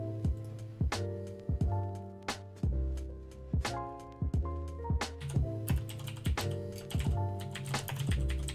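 Sharp clacking of an overly loud computer keyboard, keys struck in irregular bursts with brief pauses between, close and crisp, with no voices over it.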